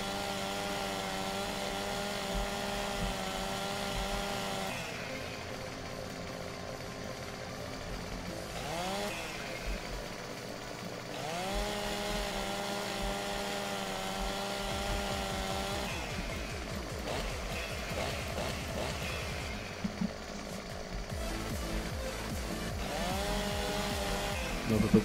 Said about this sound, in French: On va tester notre tronçonneuse.